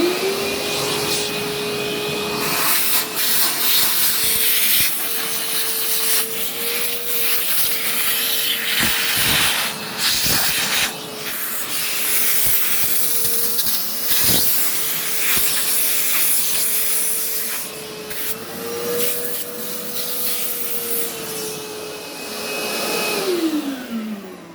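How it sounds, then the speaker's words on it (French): A vacuum cleaner sucking dirt out of window frame grooves, a loud continuous whining hum with shifting pitch and airy hiss as the nozzle moves, running alone throughout. "Et eh bien, je vais pouvoir aspirer. Alors, ça va faire un peu de bruit,"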